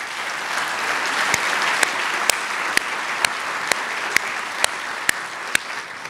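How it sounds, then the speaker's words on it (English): Sustained audience applause at a university State of the University speech, an even roar of many hands clapping, punctuated by a series of sharp, regularly spaced clicks or claps standing out above the crowd. "Again, a warm round of applause for all of them."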